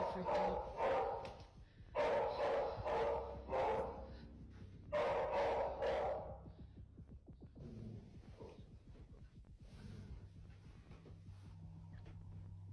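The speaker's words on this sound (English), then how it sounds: "when Josie started growling and barking at an empty closet inside the home" Indoors, a dog barks in several loud bursts at an empty closet, then drops to low growls and whimpers, with faint speech in the background.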